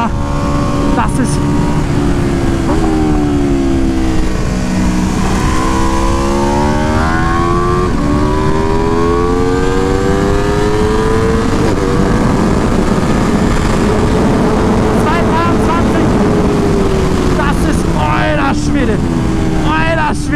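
Aprilia RS V4 1100 Factory 2020 superbike accelerating hard on a race track, its engine note rising and shifting through gears continuously and loudly, with wind rush underneath.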